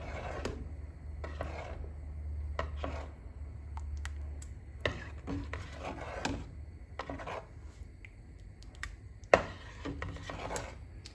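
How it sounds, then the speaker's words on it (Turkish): Spoon stirring a pot of broccoli and milk soup: intermittent soft scraping and rubbing strokes against the pot, with light clicks and one sharper knock, fairly faint over a low steady background hum. "Ve karıştırıyorum."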